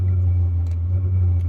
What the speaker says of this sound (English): There's your pulse of the fuel pump.